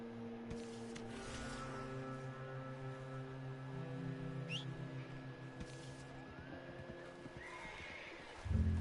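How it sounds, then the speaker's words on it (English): Horse in the video game Red Dead Redemption 2, a faint whinny and soft hoof clops under a steady game music and ambience bed, quiet and distant. "Vem, cavalo."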